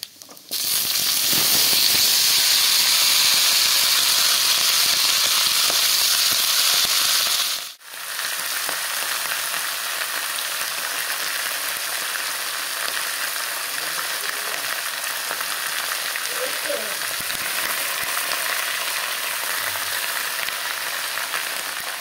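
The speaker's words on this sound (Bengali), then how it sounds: "এখন সবজিগুলো সব একসাথে ঢেলে দেব।" Mixed vegetables hit hot oil with dried red chili and tempering spices in a Bengali five-vegetable dish, giving a loud, steady sizzle. It breaks briefly about a third of the way through, then continues a little quieter.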